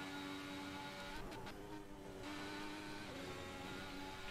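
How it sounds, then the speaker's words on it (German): A loud, steady whining car engine in Assetto Corsa with buzzy tonal harmonics, briefly shifting pitch as if changing gears, with no voices. "Das Auto ist so laut"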